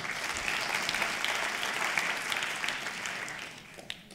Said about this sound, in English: Merci beaucoup de l'applaudir, Agnès Coufinal.